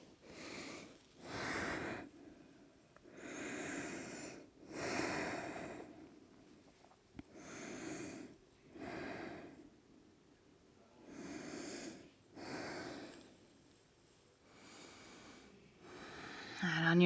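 Slow, audible breathing during a held seated forward-fold yoga stretch with a strap around the feet, steady inhales and exhales repeating every couple of seconds, close and soft, with no talking.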